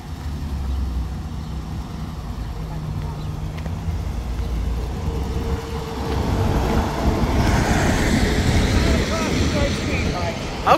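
A 1949 Dodge Wayfarer drives along the road, its engine and tire rumble steady and close, swelling louder in the second half, with people talking over it.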